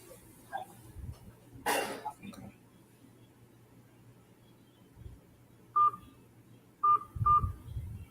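Telephone keypad tones sound as a few short beeps near the end, one alone and then a quick pair, after a cough and some quiet handling noise.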